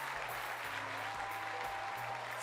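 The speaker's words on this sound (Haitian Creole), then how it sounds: "Applaudissez Béatrice pour moi." An audience applauds for Sister Béatrice: dense, steady clapping from many hands, fairly close, continuing evenly throughout.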